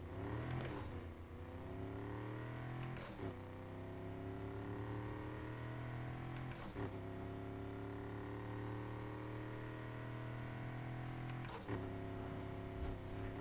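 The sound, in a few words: customized car engine in video game NFS Heat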